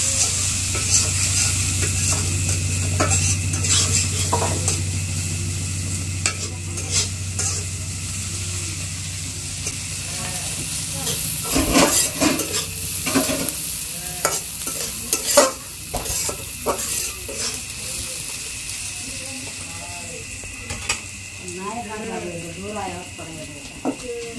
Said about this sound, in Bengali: তারপর পিঁয়াজ আর রসুন দিয়া দিলাম একবারে ছাইটা